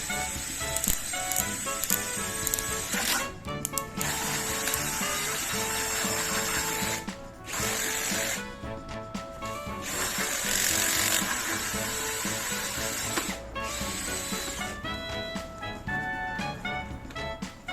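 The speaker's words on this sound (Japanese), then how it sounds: "次に2枚目の板にホールソーを使って配線を通す穴を開けていきます。" An electric drill fitted with a hole saw bores a wiring hole through a wooden board for a kei van fit-out, cutting in loud grinding bursts separated by several brief pauses as the drill stops and restarts.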